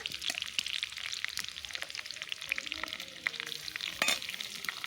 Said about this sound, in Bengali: পেঁয়াজটা একটু ভাজা ভাজা করে রসুন কুচিগুলো দিয়ে দিলাম, সুন্দর মতো একটু পাকিয়ে নেব।